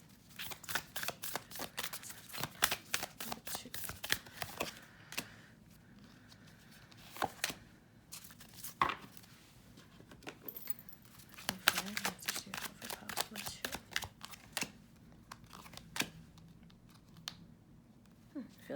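Tarot cards shuffle in quiet bursts of soft, rapid riffling and slapping, repeated many times with short pauses between, close and fairly faint, with a little speech between shuffles.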